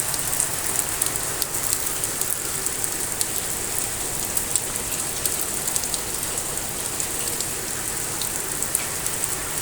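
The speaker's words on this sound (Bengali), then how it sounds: "প্রভাবের কারণে এভাবে বৃষ্টি হচ্ছে" Heavy rain from Cyclone Remal pours steadily in Dhaka, a dense hiss of drops drumming on surfaces with no voices, loud and continuous throughout.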